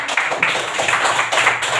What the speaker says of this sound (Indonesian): Deviana, tepuk tangan untuk Deviana.